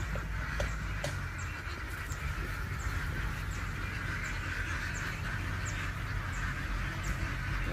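A dense chorus of ducks quacking continuously over a steady low rumble, a large flock close by on a duck boat with its motor droning underneath.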